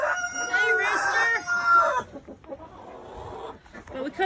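A rooster in a backyard chicken pen with nesting boxes and a roost crows once loudly and close, its long wavering call followed by quieter rustling and faint clucks.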